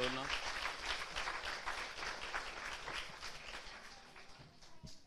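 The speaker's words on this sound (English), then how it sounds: "So please, a big round of applause for Dolna." Audience applause at an event honouring Dolna, a crowd clapping steadily at moderate volume that gradually thins and tapers off over several seconds, with a few isolated claps near the end.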